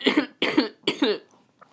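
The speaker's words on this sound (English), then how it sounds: "let me clear my throat real quick" A man clears his throat three times in quick succession, each burst a close, rough, forceful rasp separated by short pauses, followed by a faint trailing breath.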